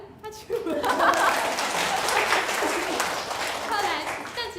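A church congregation at Sunday worship breaks into hand clapping, a dense burst of applause rising quickly and sustained, with light laughter and voices mixed in near the start and end.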